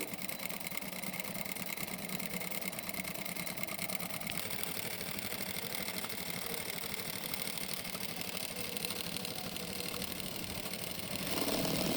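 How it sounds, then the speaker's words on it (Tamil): A power sewing machine fitted with a 7 mm spiral hemming clamp stitches a folded fabric hem, a loud continuous motor whir with rapid needle chatter, steady throughout and briefly intensifying at the end. "நமக்கு துணியோட ஓரம் செவன் எம்எம் மடித்து தச்சு கொடுக்குது"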